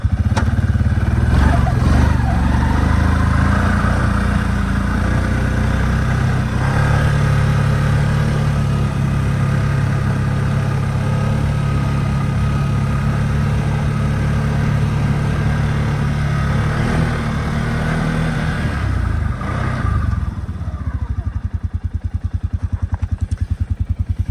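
A 2024 Gen3 Can-Am Outlander 700 XMR ATV driven in high range gives a steady, loud, close engine drone that rises slightly and holds for the whole ride, easing off near the end.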